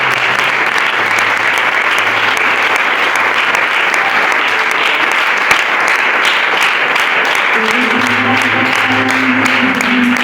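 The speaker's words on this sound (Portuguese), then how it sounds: "Mais uma vez, aplaudo" A church congregation at a pastor's birthday service applauds steadily for about ten seconds, a dense, loud, continuous clapping with a few tones rising underneath near the end.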